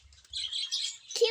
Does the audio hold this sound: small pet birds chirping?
yes